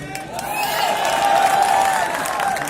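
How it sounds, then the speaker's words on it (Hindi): A large audience applauds at a leadership talk on stage, a sustained wash of clapping with some cheering, loud and steady throughout. "तालियां बचा के रखिए"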